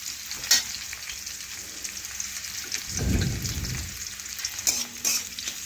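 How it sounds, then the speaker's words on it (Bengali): Chopped onion frying in a pan with spices gives a constant close sizzle, with a burst of stirring scrape in the middle and a few sharp clicks of a utensil near the start and end; no talking. "এখন পেঁয়াজ একটু ভালোভাবে ভেজে নেব"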